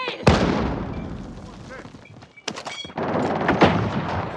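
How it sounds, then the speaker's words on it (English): Grenade thrown and detonating during a battle-royale shooter match, with sharp booming blasts and gunfire-like bursts over continuous game noise, while players talk over the action. "Throwing grenade"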